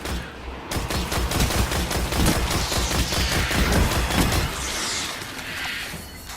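A land mine detonating in the game Destiny, set among sustained, dense gunfire-like bursts and crackling blasts that roll on continuously for several seconds before tapering slightly.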